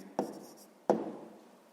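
Two separate scratchy strokes of a pen on paper, close and quiet, as an answer is written by hand in a sixth-grade maths exercise.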